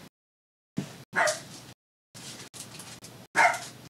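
A dog barks in short separate bursts, several loud close barks with pauses of silence between them, no talk.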